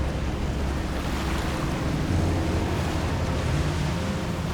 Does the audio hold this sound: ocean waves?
yes